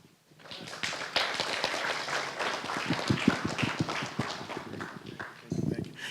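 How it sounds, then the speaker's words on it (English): Audience clapping for young cadets at an end-of-session ceremony at Forest Park, a sustained burst of many hands that holds steady and swells again near the end, mixed with voices. "Give these young people a round of applause"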